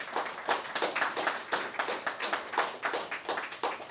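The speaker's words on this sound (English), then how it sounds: "So please round of applause to them." Audience applause at a film festival programme launch in London, a small crowd clapping with distinct, rhythmic individual claps audible throughout, moderate and steady for four seconds.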